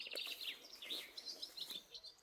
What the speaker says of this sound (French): il y a le chant des oiseaux